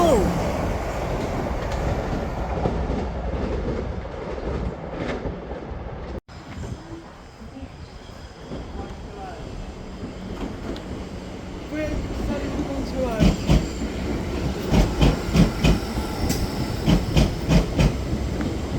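A passenger train departs St Denys station, its rolling wheel noise and rail clatter steady and fairly close, with a sharp break partway through and louder rhythmic clacks toward the end as people talk on the platform.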